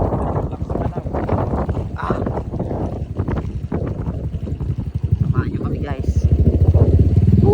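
A motorcycle engine drones under people talking, its throb growing louder and steadier toward the end as the ride continues.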